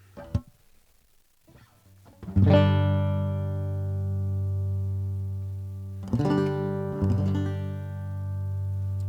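A plucked banjo, captured through a magnetic pickup and microphone, rings out with bright, sustained notes: a few soft plinks, then a strong strum that decays slowly, followed by two more strums.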